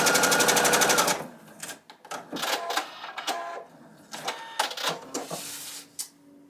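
A domestic sewing machine stitches fabric pieces for a homemade scrappy Christmas tree card: a loud rapid whirring burst at the start, then softer intermittent mechanical clatter and handling of fabric, no talking.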